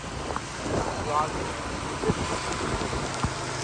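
Rain from Cyclone Remal in late May 2024 falls heavily on a road, a dense, loud wash of rain and gusting wind noise with a few sharp bumps and knocks.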